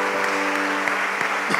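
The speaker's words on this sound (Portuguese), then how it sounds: "Vamos aplaudir essa palavra de Deus" A church congregation claps after a Gospel reading: a brief, steady wash of applause at moderate level, with a sustained organ or keyboard tone held underneath.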